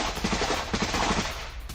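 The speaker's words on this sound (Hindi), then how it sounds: "रूस और यूक्रेनी सैनिकों के बीच ताबड़तोड़ फायरिंग" Rapid bursts of gunfire crackle between Russian and Ukrainian soldiers in combat, several quick clustered shots popping out over a noisy, muffled field recording.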